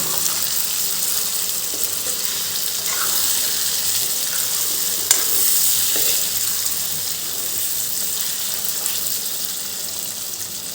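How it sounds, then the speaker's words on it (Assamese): Cut potatoes fry in a pan alongside pork for an Assamese pork with mustard greens dish, giving a steady, close sizzling hiss with a few scattered small pops and crackles, continuous and alone with no voices. "ফ্ৰাই হৈ থাকিব তো বহুত ধুনীয়াকৈ ফ্ৰাই হৈ আছে এইখিনি"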